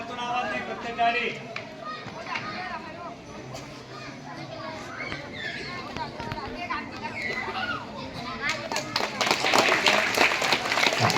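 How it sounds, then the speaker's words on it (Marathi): Children at a village school's National Science Day celebration chatter and move about, then a burst of hand clapping swells near the end, getting louder and denser over the crowd noise. "तोंडातून आवाज नाही फक्त टाळी."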